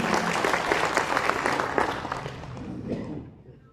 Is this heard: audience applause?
yes